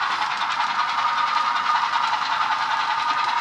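An HO scale Milwaukee Road model train runs steadily, a continuous close whirring hiss with faint rhythmic clicking, loud and even throughout with no talk.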